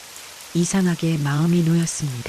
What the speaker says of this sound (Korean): 그때 밖에서 빗소리가 들리기 시작했습니다.